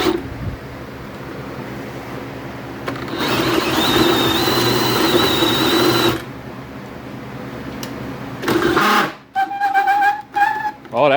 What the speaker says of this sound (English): a power drill